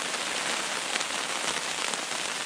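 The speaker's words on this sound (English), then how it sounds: "It's hailing outside" Hail pelting a hammock tarp during a hail storm, a dense, loud, continuous drumming patter right overhead with no gaps and no voices.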